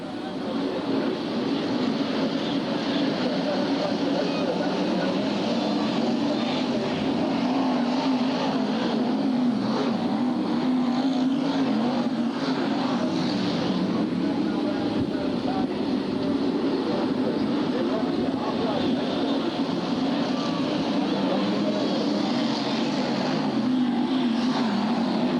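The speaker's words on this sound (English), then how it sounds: "And 97 Matty Harrison sticking the bumper in there on Kev Smith." Stock cars race around a track at Bradford in 1994, their engines blending into a continuous, fairly distant roar that rises and falls gently as the pack circulates.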